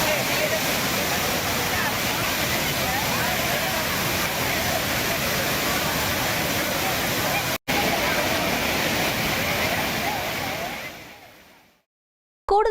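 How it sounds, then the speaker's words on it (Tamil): Thirupparappu waterfall in Kanyakumari roars in a loud, steady rush of falling water that fills the whole scene, with one short cut partway through before it fades out near the end. "குமரியின் குற்றாலம் என்றழைக்கப்படும் திருப்பரப்பு அருவியில் சுற்றுலா பயணிகள் கூட்டம் அலைமோதுகிறது"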